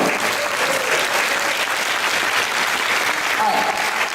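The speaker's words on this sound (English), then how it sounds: "Ladies and gentlemen, give them a big round of applause" Audience round of applause at a conference workshop, dense enthusiastic clapping filling the room with a few voices and cheers mixed in.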